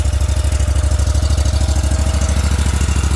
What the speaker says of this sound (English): you basically just want to let it warm up. It's a gas machine, 31 horsepower Vanguard.